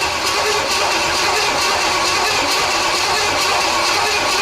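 The freshly overhauled engine of a 1977 Pontiac Firebird barn find cranks and runs with a loud, steady, rattly churn, close up and without talk.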